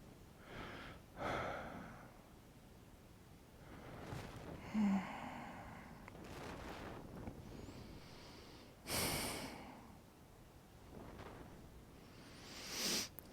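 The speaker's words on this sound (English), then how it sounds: "Take 2 more deep breaths" Slow deep breaths during a relaxation exercise, several long inhales and exhales spaced out over time, close to the microphone and fairly quiet, with breathy rushes of air and pauses between.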